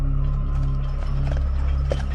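Horses pull a cart, hooves clip-clopping in a steady rhythm under a strong low steady hum, moderately close, with no talk.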